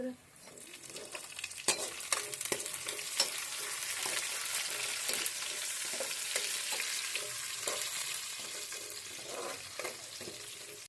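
Green chillies frying in a pan for a semolina-coated fish curry: a constant bright sizzle with scattered crackles and the occasional scrape of stirring, at a moderate level and with no talking.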